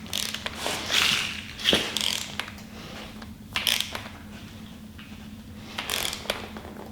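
A hand ratchet tightens bolts during assembly of a Chevy 6.2L LT1 V8 engine, giving quick clicking pawl sounds in short repeated bursts, close and fairly quiet, over a faint steady hum.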